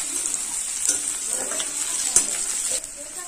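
Onions and green chillies frying in a pan for a river pangas fish curry with kochurmukhi and pui shak, giving a faint, steady sizzle broken by a few soft stirring scrapes.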